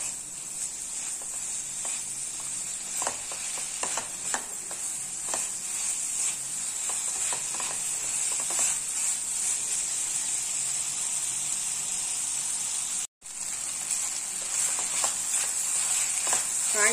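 Vegetables sizzle in a hot pan with schezwan and chilli sauces for millet noodles. A steady frying hiss carries soft scraping stir strokes, close and continuous, with one brief pause near the end.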